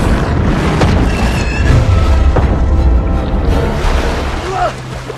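A film explosion: a deep, rumbling boom with heavy low-end roar and splashing water, sustained throughout, with voices faintly mixed underneath.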